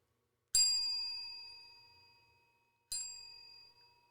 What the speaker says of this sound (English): reach over without coughing and ring the rant bell